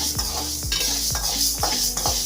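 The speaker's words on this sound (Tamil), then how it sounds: "கருப்பு உளுந்து போட்டு நல்லா வாசனை வர்ற அளவுக்கு வறுத்துக்கணும்." Black urad dal being dry-roasted in a pan, rhythmic scraping strokes of a spatula against metal roughly every half second, with dry rattling grains and a faint sizzle, close and steady, no voices.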